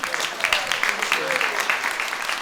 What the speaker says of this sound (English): So I just want to clap one more time and celebrate you.